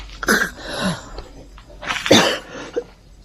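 Two harsh, explosive coughing bursts, close and loud, separated by a short pause, with faint breathy noises between them.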